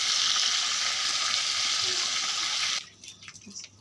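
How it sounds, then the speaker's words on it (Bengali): Meat browning in hot oil for a roast: a loud, steady sizzle fills most of the clip, then drops away abruptly near the end, leaving quieter clinks and stirring. "আমার মাংসটি ভালো ভাজা হয়ে গেছে, হালকা করে ভেজে নিচ্ছি রোস্টটি"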